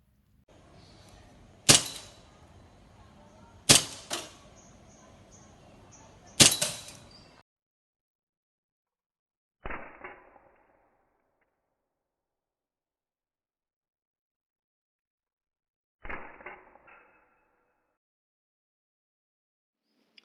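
A Tanfoglio Witness 1911 CO2 air pistol fires outdoors in a field: five sharp, separate pops, three in quick succession and then two more spaced well apart, with near silence between them.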